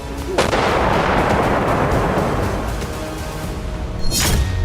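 Artillery shelling strikes Donetsk in war news footage, heavy booming blasts with a rolling rumble and sharp cracking reports layered over one another, loud and sustained.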